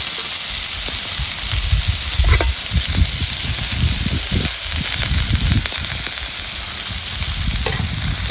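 Spiced dhesa being stirred and fried in a pan with salt and peanut powder, a loud continuous sizzle broken by scraping stirs and soft knocks of the spatula.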